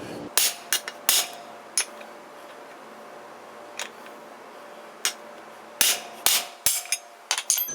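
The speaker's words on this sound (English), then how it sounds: "I just kind of set it on there snug and give her a few whacks, and it usually starts to break it free" Sharp metal hammer blows strike an extension tool to knock a lower control arm bushing out of a Nissan S13. A dozen or so loud, close whacks land in irregular clusters with quiet gaps between them.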